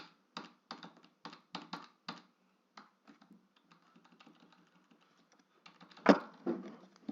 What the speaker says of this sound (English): I'm pressing the button, but it's not working.